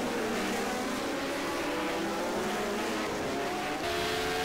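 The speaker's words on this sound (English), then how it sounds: "Here come all the cars through." Sim-racing 1974 Formula 1 cars stream past on the Long Beach street circuit, a loud, continuous layered engine whine holding steady as the pack goes through.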